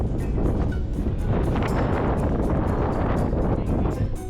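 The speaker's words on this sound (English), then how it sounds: "Wow, 37 knots of wind." Strong gusting wind of around 37 knots buffets an anchored boat off the British coast, a loud continuous roar and rumble of microphone-hitting gusts with no let-up.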